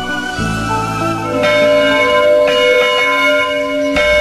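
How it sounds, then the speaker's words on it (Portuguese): A church bell tolls loud and close, struck several times at intervals, each ringing tone lingering and overlapping the next, with no voices. "O sino toca pela última vez em homenagem a você."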